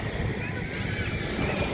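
Surf washing onto a beach in Zambales with steady wind, forming a continuous close roar of breaking water and gusty microphone rumble that never drops away.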